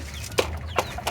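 Pullet hens cluck in a few short, close bursts, spaced about a third of a second apart, with no talking.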